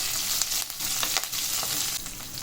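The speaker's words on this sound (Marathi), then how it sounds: "कडीपत्ता चांगला भाजून घ्यायचा भरपूर कढीपत्ता घालायचा" Plenty of curry leaves frying in oil for a ragi chivda snack, a dense continuous crackling sizzle up close, with faint stirring scrapes and no voices.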